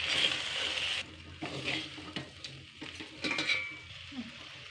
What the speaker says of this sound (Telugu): ఇప్పుడు బాగా కలుపుకుందాం